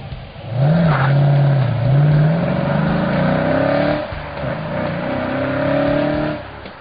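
A 2009 Dodge Challenger SRT8 engine revs loud and close, its deep drone climbing in pitch, dipping, then climbing again across several seconds, with no talking over it.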